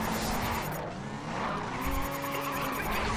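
A car drifting in the racing game Race Driver GRID, with loud, sustained tire squeal and skidding over a roaring engine that dips briefly and then surges again.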